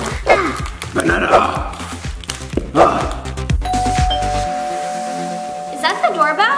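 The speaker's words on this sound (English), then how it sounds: "Is that the doorbell?" A doorbell chimes partway through at a children's birthday party, its sustained tones ringing out after busy chatter and shouting from kids and adults.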